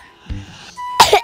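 A single short cough from a child close to the microphone, followed by a quick second burst, after a faint tone and a soft thump.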